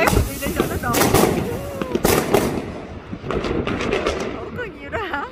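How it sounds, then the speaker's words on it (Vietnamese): Fireworks and firecrackers go off in a street in the Netherlands on New Year's Eve: dense, irregular bangs and crackles, near and far, overlapping continuously while people talk in the foreground. "ở ngoài đường á đốt pháo hay luôn nè"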